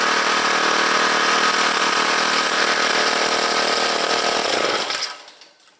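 A Honda HHT35S four-stroke string trimmer idles indoors in a garage with a steady, buzzy engine drone that holds for several seconds and then winds down as it is shut off, close and loud with no talking.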